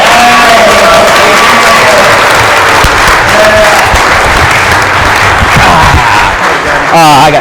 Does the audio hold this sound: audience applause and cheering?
yes